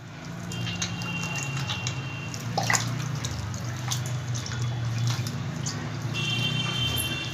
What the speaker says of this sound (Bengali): দেখো এইভাবে আমি জলটাকে ফেলবো